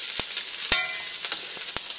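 Leftover rice, vegetables and lamb sizzle steadily in a hot pan, a close hiss broken by a few sharp clicks of stirring, with no talking.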